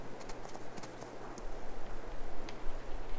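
Horse hooves clip-clopping on a riding trail in Farming Simulator 22, a steady, moderately quiet rhythm of hoof falls over a low background hum.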